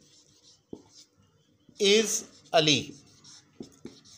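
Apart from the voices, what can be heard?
pen writing words on paper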